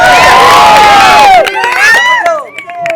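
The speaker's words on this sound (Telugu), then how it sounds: "ఈ విద్యార్థులు ఇక్కడ ఒక్కసారి క్లాప్స్ ఇవ్వండి" College students in a lecture setting cheer and shout loudly, a burst of crowd whoops and yells that thins after a moment into scattered individual shouts, close and energetic.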